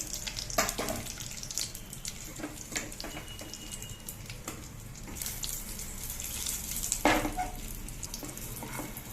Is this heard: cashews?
yes